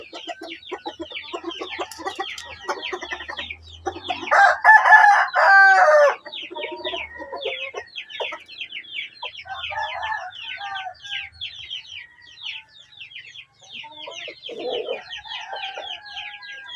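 Black Parawakan breeder chickens cluck continuously in a busy coop, with one loud rooster crow rising above the steady clucking chatter partway through.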